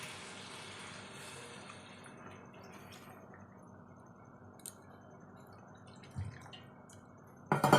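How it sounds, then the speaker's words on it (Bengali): Water is poured into a pot of simmering chicken curry, making a soft, steady trickling wash that fades over several seconds. Faint clinks and small splashes follow near the end. "জল দিয়ে দিচ্ছি"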